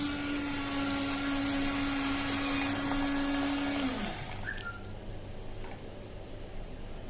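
A Nescafé coin-operated coffee vending machine dispensing a drink, a loud steady motorised whir with a droning whine that winds down after about four seconds, followed by quieter mechanical clicks.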